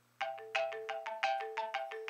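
A mobile phone ringtone goes off during a live stream, a bright melodic run of quick electronic tones in an uneven repeating pattern, fairly close and heard alone.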